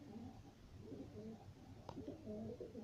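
Homing pigeons cooing in a loft, soft repeated low coos, fairly close but quiet, with a faint click partway through and no talking.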